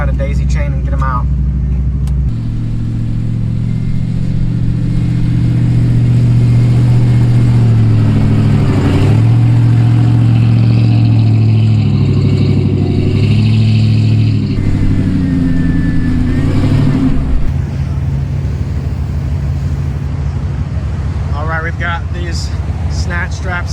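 Ford Bronco engine revving and droning steadily for a long stretch in beach sand during a recovery, with rising and falling pitch and some voices talking over it.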